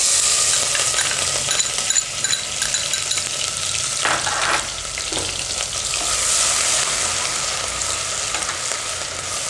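Ginger, chili and garlic hiss and sizzle steadily in hot oil for a Gujarati green pigeon pea and potato curry, loud and close, with a few brief scraping stirs midway and no talk.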